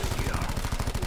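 Rapid automatic gunfire rattles in a continuous burst during a Call of Duty: Black Ops 4 Zombies match, loud and close with evenly spaced shots throughout.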